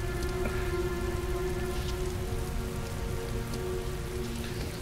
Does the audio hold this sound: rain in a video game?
yes